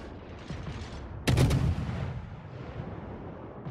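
Destroyer guns opening fire in the naval game World of Warships, a sudden loud rapid volley of booming shots over a steady low rumble of engine and sea noise, then fading back to the background.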